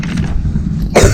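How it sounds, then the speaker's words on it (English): A short, harsh cough bursts out at the end after a brief low rumble, close and fairly loud. "Sorry, I have a cough a little bit."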